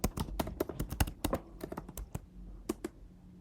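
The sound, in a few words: typing a command on a computer keyboard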